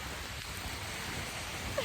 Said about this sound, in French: D'ailleurs, il pleut encore là.